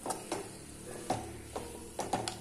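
A spoon stirs and scrapes banana flower stir-fry in a pan, with soft intermittent clinks and scrapes spaced about half a second apart at close range, and no talking.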